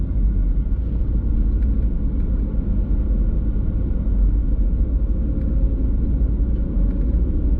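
A car rolls slowly along Kahekili Highway on Maui, giving off a steady, loud low engine and road rumble throughout with no talking.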